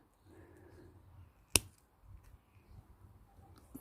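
Pruning scissors give a single sharp snip as a plant stem is cut back to just above a bud, close and crisp in otherwise quiet outdoor surroundings.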